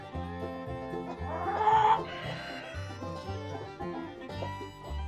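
Chickens on a farm clucking outdoors in summer, a steady run of clucks and soft calls close by, with a brief louder squawk partway through and no talking.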